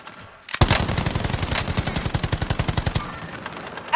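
Call of Duty gunfire: a sharp opening shot followed by a sustained automatic burst of evenly spaced, loud cracks for about two and a half seconds, tapering off into quieter scattered noise.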